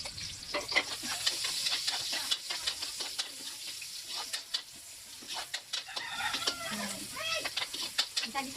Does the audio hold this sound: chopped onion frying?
yes